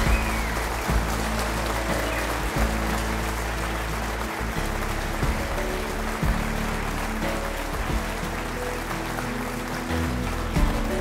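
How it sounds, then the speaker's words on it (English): An audience claps continuously at the 2011 Writers of the Future awards ceremony, a broad and even wash of applause that holds steady for several seconds with no talking over it. "It says applause on the teleprompter"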